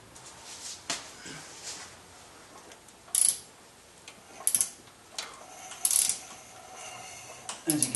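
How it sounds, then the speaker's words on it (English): An engine crankshaft is turned by hand with a ratchet, giving soft ratcheting clicks and a few louder mechanical clunks and hisses of compression spaced out over a quiet background. "As you can hear the compression, that's always a good sign."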